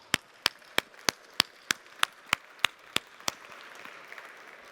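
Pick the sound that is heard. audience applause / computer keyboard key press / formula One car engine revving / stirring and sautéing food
audience applause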